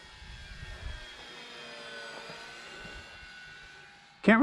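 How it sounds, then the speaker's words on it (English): An E-flite 1.2m Spitfire RC model plane on a 3S 2200 battery flies overhead with a steady, thin electric motor whine that drifts in pitch at moderate distance. A voice murmurs faintly, and a sharp loud burst comes at the end. "It's a beautiful plane."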